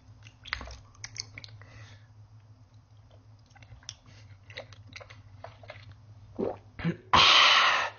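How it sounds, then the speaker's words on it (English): A giant water jelly is bitten and chewed up close, with repeated wet squishing and smacking bites in an irregular rhythm, ending in a loud, sustained slurp of juicy mouth noise. "giant water jelly,"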